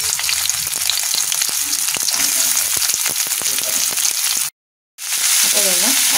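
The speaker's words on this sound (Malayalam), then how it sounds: "ഞാനിതിലേക്ക് ഉള്ളി ഇട്ട് കൊടുക്കുന്നു." Onion drops into hot oil and sizzles loudly and steadily close by, with faint stirring scrapes, then breaks off for a moment before the hiss comes back. The dish is goat liver.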